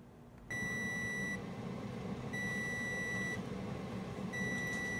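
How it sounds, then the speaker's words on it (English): A loud air fryer beep repeats in three long, steady tones with gaps between, signalling the end of its cooking timer, over a constant low fan hum. "Beep, beep, beep."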